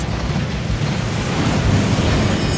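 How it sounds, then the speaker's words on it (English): A waterfall in the game Hogwarts Legacy, a loud, continuous broadband rush of falling water, steady and close with no voices over it. "That waterfall washes away all enchantments."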